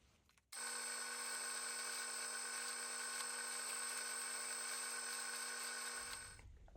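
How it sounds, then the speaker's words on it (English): A power drill bores holes through a tortoiseshell celluloid pickguard template for a Telecaster Thinline-style guitar, giving one steady, loud, high whine that runs for about six seconds before winding down. "to drill these holes through the pickguard, or the template in this case"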